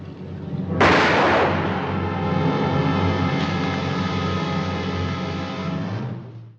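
Gunfire from the film Casablanca: a sudden loud blast followed by a long rumbling, crackling roar that slowly fades over several seconds, with no talking.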